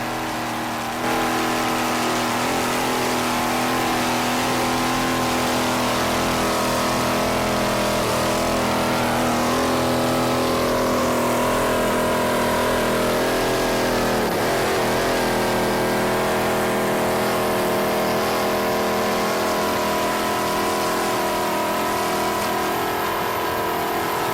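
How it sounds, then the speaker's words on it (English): A 24-foot Skater racing powerboat with twin 295 hp Mercury outboards runs at a national championship race in New York, giving a loud, steady, high-pitched engine roar that holds for the whole stretch with a brief dip midway. "This 24-foot skater is powered by two 295 horsepower Mercury"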